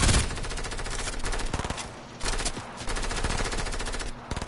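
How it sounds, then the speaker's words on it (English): Rapid bursts of video game gunfire crackle loudly and almost continuously, with short gaps between volleys and a few heavier shots near the start. "We got people shooting in front."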